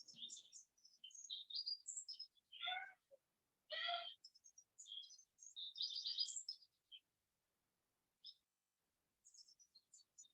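Birds call and chirp outdoors in a quiet setting, a run of bright, high tweets and trills in short bursts with brief pauses between, fairly close and clear with no talking.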